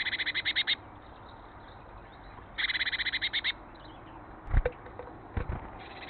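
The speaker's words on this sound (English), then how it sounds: "We can hear a male here doing a lot of territorial calls." A male bird near a nest box gives territorial calls: two quick bouts of rapid, high chattering notes stand out over faint outdoor background hiss, followed by a few soft knocks.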